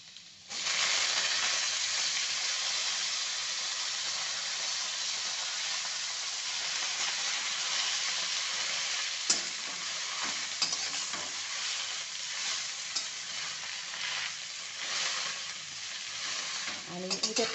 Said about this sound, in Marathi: आता गॅस मोठा करते आणि ना आता याच्यातनं आपण धुवून घेतलेली भाजी टाकायची.